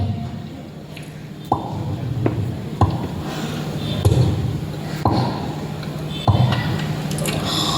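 A voice imitates rain dripping from a tiled roof: about six evenly spaced plopping drops, close and fairly loud over a soft background hum, in a mimicry competition performance.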